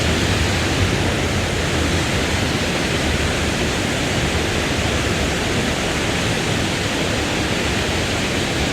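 A waterfall in Hallstatt, Austria roars steadily nearby on a rainy day, a loud, unbroken rush of falling water with no other sounds standing out.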